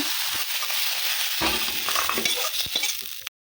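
Potatoes and cauliflower fry in hot oil with a steady, loud sizzling hiss close by, broken by a few clinks of the spatula stirring, then it cuts off abruptly.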